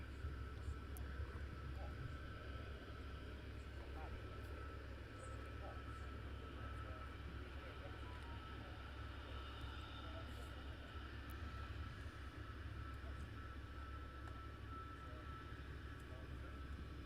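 Aircraft at foggy Luton Airport: a steady, continuous engine drone fills the background throughout, broad and unchanging, with faint voices murmuring now and then beneath it.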